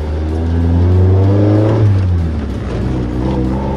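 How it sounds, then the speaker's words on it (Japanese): A Toyota AE86 Trueno with a high-cam engine and four-throttle intake revs up from inside the car, giving a loud, close, rising intake roar that peaks, dips, then settles into a steady drone. "吸気音すごい。 吸気音しか聞こえない。"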